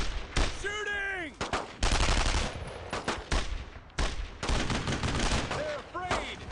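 Dense automatic and rifle gunfire from a World War II shooter game, loud bursts and rapid rattling shots in repeated volleys, with shouted voices calling out between and under the firing.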